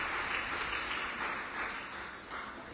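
A church congregation at a Sunday devotional service claps loudly together, a dense, steady wash of applause that slowly fades a little, with no talking over it.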